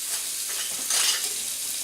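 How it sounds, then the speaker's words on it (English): Tap water pouring into a cooking pot for Caribbean-style chicken soup, a steady broadband rush with a brief swell in the middle, close and alone. "I'm filling my pot up to the top."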